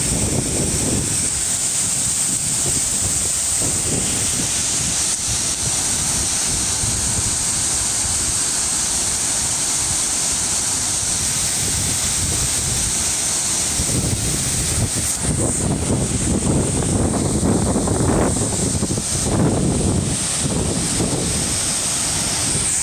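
Rushing water and gusting wind at the Glandieu waterfall fill the scene with a steady, broad roar that swells louder in the second half, with wind buffeting the microphone and no voices.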